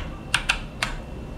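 Three quick keyboard key presses for the Ctrl+P shortcut while rigging a hand in Blender 4.1, sharp close clicks spaced irregularly over a quiet background.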